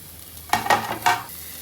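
Stirring in a pan of tomatoes sautéing with curry leaves and drumstick for a Kerala fish-head curry: three short scraping strokes over a soft, steady sizzle, close and with no talking.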